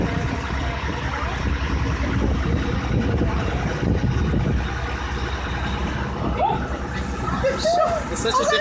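Steady engine drone and wind rush of a boat moving over open water near Nassau, Bahamas, to Paradise Island, loud and continuous, with people talking over it.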